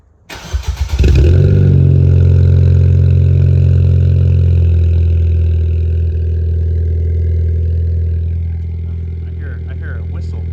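Car engine fitted with a cheap eBay aftermarket exhaust cranks and fires within the first second, then settles into a loud, steady close-up idle with a deep rumble and a faint turbo whistle, easing slightly lower toward the end.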